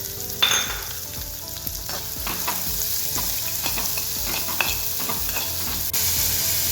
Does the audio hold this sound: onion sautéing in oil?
yes